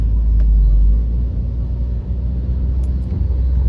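Salt trucks roll past on a snowy Chicago street near Grant Park, making a steady, close, heavy low rumble that swells and eases as they pass.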